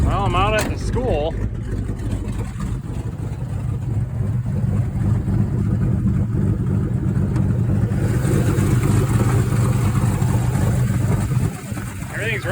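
The 4.8 LS-swapped engine in a 1984 El Camino runs steadily and loud, a low continuous drone that holds throughout, with brief speech near the start and end.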